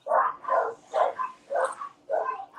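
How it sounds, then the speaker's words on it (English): Dogs barking at night in a rhythmic series of five sharp woofs, evenly spaced and fairly close, standing alone against a quiet background. "The doggos want to act belligerent tonight."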